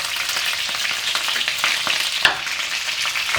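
Chicken wings sizzle steadily in a hot pan, joined by ginger and star anise, with a continuous bright crackle, scattered pops and one sharp clink of a utensil near the middle.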